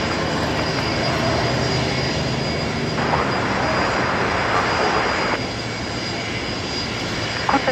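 A Qantas domestic airliner on the Sydney to Brisbane service roars at Brisbane Airport, a loud sustained jet engine rumble that swells slightly in the middle and holds steady throughout.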